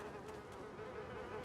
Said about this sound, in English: All you can hear are the flies buzzing in the background